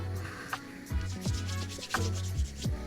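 Rhythmic back-and-forth scraping of sandpaper in Minecraft, repeated strokes about every half second, soft and close with no talk.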